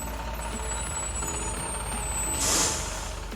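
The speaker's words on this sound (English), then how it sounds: "Finally, after 30 minutes, the bus is coming down the street." A large vehicle, likely a bus, moves along a street with steady low engine rumble and a hiss of air brakes near the end, no voices.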